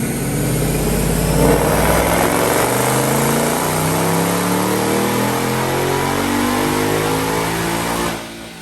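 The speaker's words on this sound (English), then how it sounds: "Check out this dyno pull." A 2021 Ford Mustang GT with a Roush Phase 2 supercharger and manual transmission roars through a loud, sustained dyno pull, the engine note climbing steadily in pitch for about eight seconds before cutting off abruptly.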